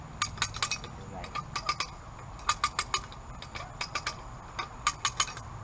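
A come along winch being worked by hand, with quick bursts of sharp ratcheting clicks in repeated rhythmic groups, close and moderately loud over a low background rumble.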